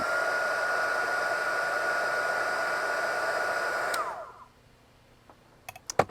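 Heat tool warming glaze on a junk journal page, a steady loud whirring blow that runs for about four seconds and then winds down, followed by a few faint clicks.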